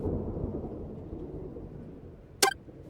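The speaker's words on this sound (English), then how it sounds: "The sounds of distant thunder was the only thing he noticed at first." Distant thunder rolls as a low, steady rumble through a rainy stretch of the FNF Soft game's story, fading gradually, with one sharp, sudden crack near the end.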